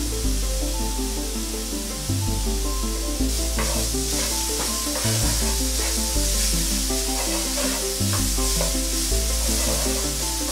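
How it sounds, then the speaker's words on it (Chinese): Onion, ginger and garlic paste sizzle in a pan, a loud continuous frying hiss with stirring scrapes and repeated low thumps, no one speaking. "然后呢就把这些洋葱啊、姜啊还有蒜泥啊倒在里面，让它先爆香。"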